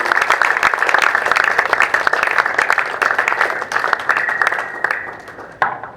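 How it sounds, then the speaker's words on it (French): An audience at a church teaching gathering claps warmly to welcome a preacher. The applause is dense and loud at first, then thins into scattered claps toward the end. "Merci d'avoir acclamé pour moi"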